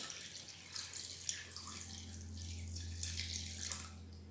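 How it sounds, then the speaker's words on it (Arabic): Leftover thyme-infused water poured out in a kitchen while preparing spiced clarified butter, a soft, faint, continuous trickling and splashing of liquid with a low steady hum underneath. "دابا غنعاود هاد الماء اللي تبقى ليا غادي نفرغو عليها"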